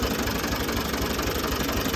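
A Ford 2000 tractor engine turns over quickly and runs with a steady, dense low rumble and knocking throb, loud and close with no voices.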